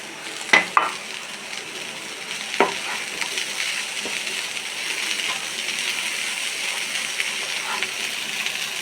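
Cooked chopped raw banana peel being stirred into a sizzling stir-fry pan for thoran, with a few sharp spoon clacks at the start, then a steady sizzle under soft scraping.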